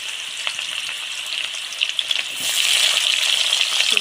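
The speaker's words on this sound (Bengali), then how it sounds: "এবারে দিয়ে দিচ্ছি কেটে রাখা পেঁয়াজ" Chopped onions fry in hot oil with bay leaf and dried red chili, a dense, bright sizzle that swells louder partway through, close and continuous with no talking.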